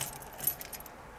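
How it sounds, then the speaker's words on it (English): Car keys jangle in the ignition as the ignition is switched on during a reversing light troubleshoot, giving a brief light metallic rattle with a few small clicks in a quiet space. "Turn the ignition on."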